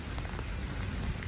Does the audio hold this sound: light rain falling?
yes